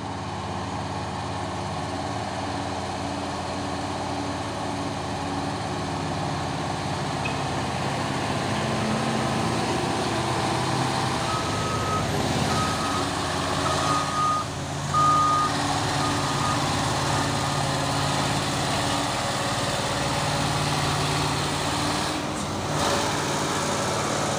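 A large Fuso trailer truck idles and rumbles on a hill road, its low engine drone steady throughout while a faint reversing beeper chirps briefly in the middle, with other traffic in the distance.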